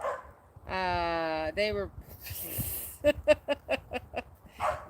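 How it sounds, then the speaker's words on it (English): Several dogs bark and yip in a quick series of short, sharp calls with a whimpering, whiny tone, fairly close and loud, with people talking around them. "Oh, now my dogs are invited."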